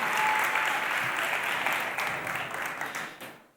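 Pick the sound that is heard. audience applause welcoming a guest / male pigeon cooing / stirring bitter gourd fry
audience applause welcoming a guest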